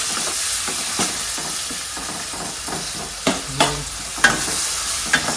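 Steady crackling sizzle of curry leaves frying in hot oil, with several sharp spattering pops and a few stirring clinks scattered through.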